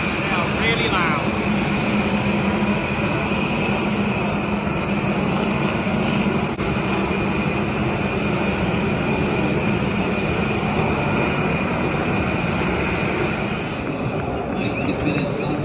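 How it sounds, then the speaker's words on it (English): A loud, steady jet-engine roar from a NASCAR jet dryer at the 2020 Daytona 500 runs throughout, a continuous broadband rush with a high whine, with faint voices underneath. "my first NASCAR race experience is also my first NASCAR jet dryer experience. They are really loud."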